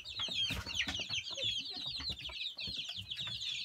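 Chicks and hens cheep and cluck busily up close, a dense, continuous chatter of high peeps with occasional soft thumps.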